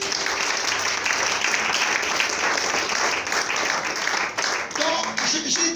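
A church congregation applauds and cheers in a steady, dense wash of clapping that runs throughout, with voices mixed into the crowd noise.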